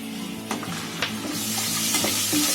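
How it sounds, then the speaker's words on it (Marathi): Ginger-garlic paste hits hot oil left from frying potatoes and sizzles loudly and steadily, the hiss building as a spoon stirs and scrapes the pan with a few sharp clinks. "आता हे तेल तापलेले त्याच बटाटे जे फ्राय केलेले ना त्याच तेलामध्ये मी पहिले अद्रक लसणाची पेस्ट टाकणार"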